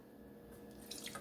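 Liquid from coconut cream pours and drips into a bowl, a faint trickle that grows into soft splashing toward the end, quiet and close.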